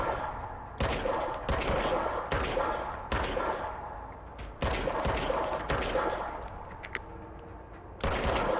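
Bursts of gunfire from a gun in the video game Control ring out loud and close, with about nine sharp shots or short volleys spaced roughly a second apart, each trailing into a brief echo.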